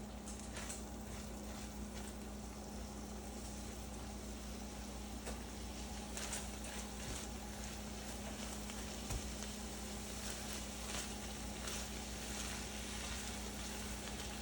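Vegetables and onion sauté in a pan, giving off a quiet, steady sizzle with faint crackles and an occasional soft scrape of stirring.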